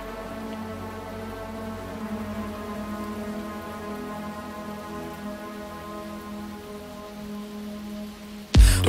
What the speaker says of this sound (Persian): خیلی با بارون فضا سازی